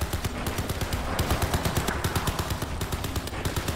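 Heavy mounted gun firing in Crysis 3 Remastered, a rapid, loud, continuous burst of booming shots in a steady rhythm, close and unbroken, with no talk over it.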